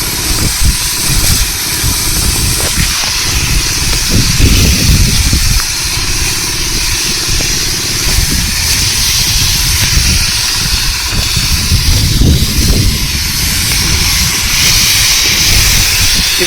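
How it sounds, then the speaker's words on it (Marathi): A tractor-mounted sprayer works through a custard apple orchard, its engine droning steadily under a continuous broadband hiss of spray, close and unbroken for the whole stretch. "ट्रॅक्टरने पण अशा प्रकारे फवारणी होते ट्रॅक्टरच्या मागे एक टाकी असते"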